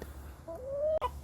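A chicken in a garden gives a short rising cluck, a single drawn-out note followed by a quick sharper call, close by against a quiet outdoor background.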